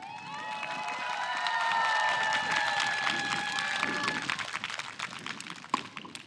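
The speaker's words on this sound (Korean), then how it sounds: "이렇게 박수로 저를 환영해 주셔서" A crowd at an outdoor youth concert in Yeouido Hangang Park, Seoul, applauds and cheers in welcome, with high whoops over dense clapping that swells, then thins into scattered claps near the end.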